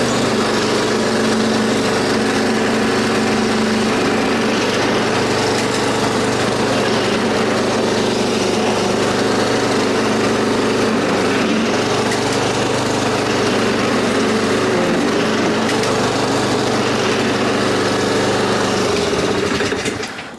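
A Honda walk-behind lawn mower runs steadily with its drive wheels engaged, a loud continuous engine drone with a slight hum, close by and cutting off at the end.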